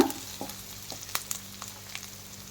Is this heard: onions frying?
yes